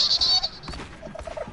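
A voice imitates Tweety Bird with a few high, squeaky chirping tones followed by softer, breathy vocal bits, close and fairly quiet.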